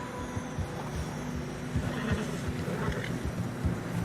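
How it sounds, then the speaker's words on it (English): Horses in Red Dead Redemption 2 crossing fresh snow on a narrow mountain path, with a whinny and irregular soft hoof steps over a steady wind-like ambient bed, moderately loud. "Horses are struggling."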